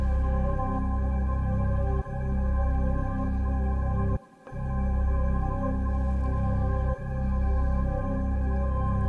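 A looping music beat with steady bass and tones plays, then all sounds drop out abruptly for a moment before the beat resumes.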